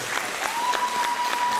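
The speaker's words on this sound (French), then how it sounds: "Florine, on vous applaudit encore une fois chaleureusement" An audience at a regional beauty pageant final applauds warmly, a brief, fairly loud burst of many hands clapping in a dense, even wash with a faint steady tone running through it.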